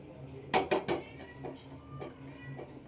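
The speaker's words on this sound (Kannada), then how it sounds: "ಇವಾಗ ಸ್ಟವ್ ಹಚ್ಬಿಟ್ಟು ಪಾತ್ರೆನ ಇಟ್ಕೊಂತೀನಿ" A metal cooking pot set down on a kitchen stove, giving three sharp, close clanks in quick succession followed by a few softer knocks and faint rattles.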